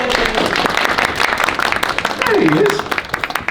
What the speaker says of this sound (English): And a big applause for Safi